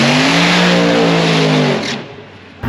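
A 350 engine with a ProCharger in a modified 240-inch-wheelbase rear-engine dragster revs loud and close, a steady harmonic roar that holds for nearly two seconds, then drops off abruptly to a low rumble before a brief final burst.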